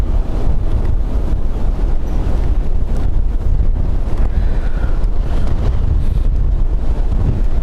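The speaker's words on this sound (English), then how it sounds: "the wind is picking up." Strong wind buffeting the microphones at Dublin Airport despite wind protectors, a loud continuous rumbling roar with no letup and no talking.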